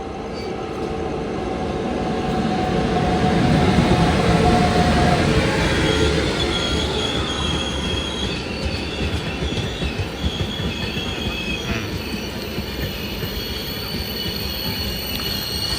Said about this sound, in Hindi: तो बहुत ही स्लो रफ्तार में हुसैन सागर में ओवरटेक कर रही है।